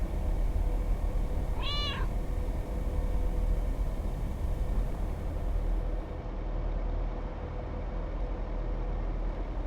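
A single short meow from a cat in Lake Ending, heard once near the start over a steady low rumbling ambience, with no talking.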